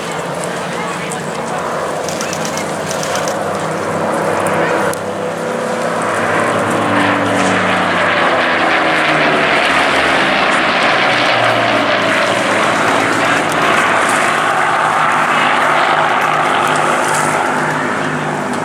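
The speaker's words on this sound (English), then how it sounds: "we just enjoy the sight and sound of the Spitfire" Pair of Supermarine Spitfires of the Battle of Britain Memorial Flight passing over an airshow at Eastbourne, a loud continuous propeller and engine roar that swells and holds, with a commentator talking over it.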